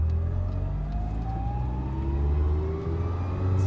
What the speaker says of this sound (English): I'm letting the clutch out. We're in first gear.